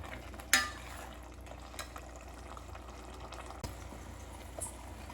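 Rice frying in a pan gives off a faint, steady sizzle, broken by a sharp clink near the start and a couple of softer stirring knocks, with no voices.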